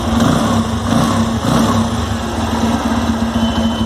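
Motorcycle engine running steadily close by after an engine flush and crank repair, with a fairly even, continuous drone and mild swells as the throttle is blipped; no talking.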